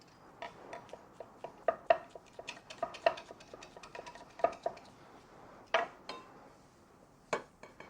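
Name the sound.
chopping basil roughly with a knife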